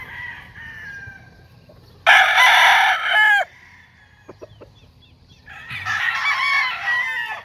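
Chickens on a Philippine farm crow loudly in two long bursts near at hand, with soft clucks and faint scratching between them.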